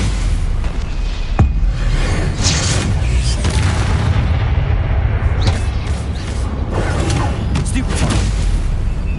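A Confringo blasting spell explodes in a wizard video game. Heavy, rumbling booms go on without a break, with sharper cracks layered on top.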